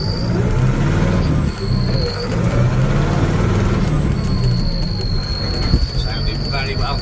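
A Case 844XL tractor engine runs steadily and loudly up close, a continuous low rumble with a high whine overhead, and a voice is heard briefly over it.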